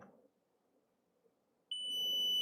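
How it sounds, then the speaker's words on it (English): After a near-silent stretch with a faint low hum, a loud, steady high-pitched electronic buzzer tone switches on and holds, driven by an Arduino Uno with an HC-SR04 ultrasonic sensor. "let's see if the buzzer will turn on."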